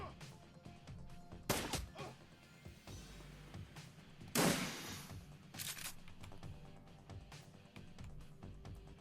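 Gunfire in the Shadowrun Returns video game: a few sharp shot bursts, near 1.6 s and a louder one near 4.5 s, plus lighter pops, over a steady game backdrop with no talk.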